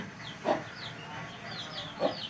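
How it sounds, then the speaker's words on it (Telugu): Hens cluck in short soft bursts, two distinct clucks close by over a quiet farmyard background with faint chirps. "మూడు నాలుగు కోళ్ళు ఉన్నాయండి సేల్స్కి"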